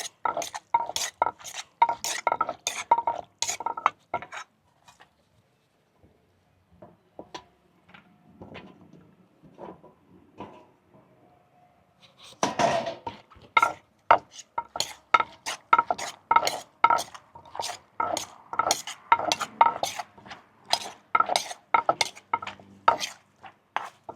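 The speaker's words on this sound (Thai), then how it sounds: "เดี๋ยวหอยกับหน่อไม้นี่เขาจะเอาลงไปหยวกก่อนพี่น้อง" Shellfish and bamboo shoots being stirred in a cooking pot, with repeated rhythmic scraping and clanking strokes in two bursts separated by a quieter stretch of faint movement, close and fairly loud.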